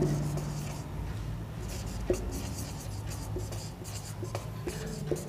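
Pen or chalk scratching out a sentence by hand during a grammar lesson, a quiet run of short rubbing strokes with small taps, with no voices over it.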